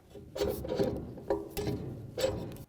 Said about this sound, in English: So I'm going to slide it through the bearing.